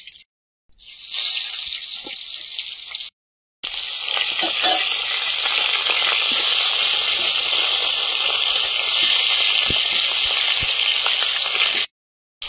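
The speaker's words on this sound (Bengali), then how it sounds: "মাছগুলো ভেজে নেব।" Pond fish frying in a pan make a loud, continuous hissing sizzle, close by, broken by two brief silent gaps.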